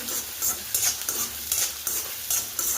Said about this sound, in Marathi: कांदा इथं मी व्यवस्थित परतून घेते